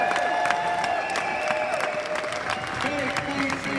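Crowd applause at a Karatbars conference in Amsterdam, continuous clapping with some cheering, while a voice talks over it.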